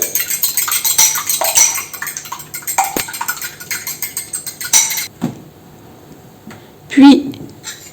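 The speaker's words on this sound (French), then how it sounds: "battre les 2 œufs." Two eggs are beaten by hand in a bowl for brioche, giving a quick run of clinking, scraping strokes over several seconds before a brief pause and a final louder knock.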